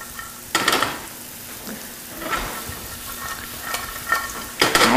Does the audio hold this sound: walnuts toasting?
yes